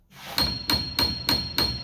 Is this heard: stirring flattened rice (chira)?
no